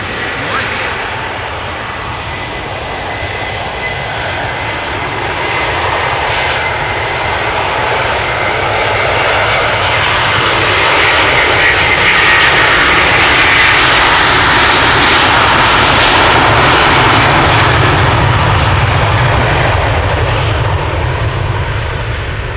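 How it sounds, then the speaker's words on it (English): Airplane taking off from the Polderbaan runway at Amsterdam Schiphol Airport, a loud, sustained jet engine roar that swells and stays powerful for the whole stretch, with a voice talking over it. "might be taking off from Polderbaan, since that is now the only runway open for departures."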